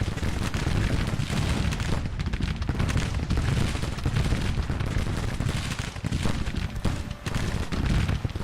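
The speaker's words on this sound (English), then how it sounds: "Artillery is firing into the cavalry as well." Continuous, dense battle din of cannon and musket fire in a Civil War strategy game, artillery booming into cavalry amid steady rolling volleys, loud and unbroken throughout.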